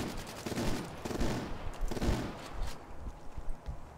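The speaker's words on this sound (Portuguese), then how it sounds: "Para de atirar aí, Colono." Rapid bursts of video game gunfire in Call of Duty custom zombies crackle in quick succession, sharp and fairly close, with brief gaps between volleys.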